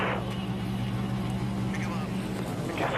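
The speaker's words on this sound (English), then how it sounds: "Gentlemen, start your engines! Crank it up." Race car engines idle and rumble together at the start of a NASCAR race, the 2009 Subway Jalapeno 250, a steady loud low drone continuing throughout under a voice.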